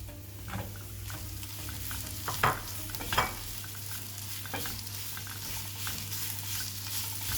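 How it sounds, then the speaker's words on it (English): Onions cooked down with a generous amount of sugar in a frying pan, stirred with a soft continuous sizzle, quiet scraping and a couple of louder knocks midway, no talking. "Get that fully incorporated. Stir it around for about a minute and a half."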